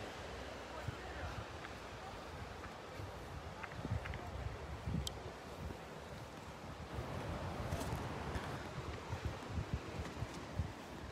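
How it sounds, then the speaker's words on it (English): Wind gusting at Heisler Park in Laguna Beach, California, buffeting the microphone with low rumbling blasts over faint surf, the gusts swelling and easing throughout, with a voice heard faintly at times. "It's windy."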